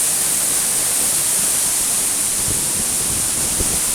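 The Eas Mor waterfall rushes in a steady, dense hiss of falling water, close and unbroken, with no voices over it.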